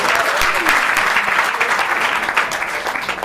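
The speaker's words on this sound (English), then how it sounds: "Can we have a round of applause?" A seminar audience claps steadily for about three seconds, a dense and even round of applause from many hands at close range, with no voices standing out.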